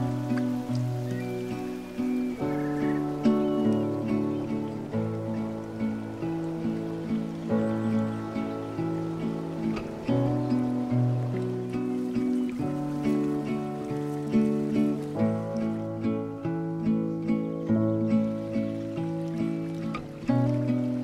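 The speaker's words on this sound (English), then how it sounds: "Oh, the rain's coming, Paul." Rain falls during a riverside fishing outing, a soft, steady patter spread evenly throughout and heard faintly beneath prominent sustained musical tones.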